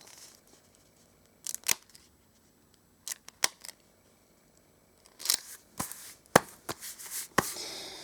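A sticker peeled off its backing and pressed into a collector's album: several short, quiet crackling rips and taps, a couple near the start and a denser cluster toward the end, with near-silence between them.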